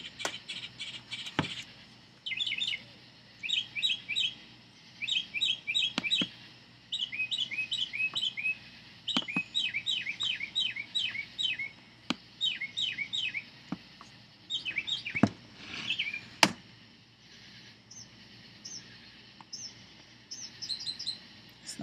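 Birds sing from a bamboo tree outside a house in Kingsland, Georgia at night, repeated bursts of quick high chirping trills coming in clusters with short pauses, fairly close over a quiet background, with a few sharp clicks between phrases.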